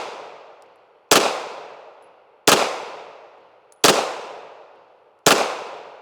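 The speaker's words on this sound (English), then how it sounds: "I'm gonna take this shot all day long with a handgun" Four sharp handgun shots are fired at a target, evenly spaced about every 1.4 seconds, each loud crack followed by a long ringing decay.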